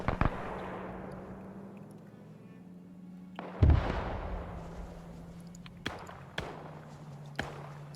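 Artillery fire support explosions in Arma 3, during a German WW2 paratrooper air raid scenario: several separate booming blasts with rolling tails, one heavier close impact midway, then sharper cracks, over a steady low engine drone.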